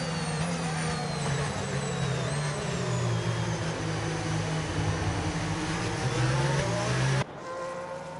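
Racing car engines in a racing video game during an overtake at Las Vegas, a loud continuous roaring drone holding steady, then cutting abruptly to a quieter engine hum near the end.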